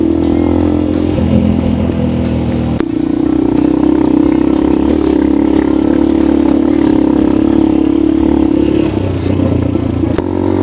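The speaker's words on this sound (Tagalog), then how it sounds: "medyo nahihirapan na yung motor natin kasi napakatarik" A motorcycle straining up a very steep backroad pass between Nueva Vizcaya and Benguet, its engine droning loudly and steadily at a laboring pitch, with some clatter and a brief rise and dip in tone.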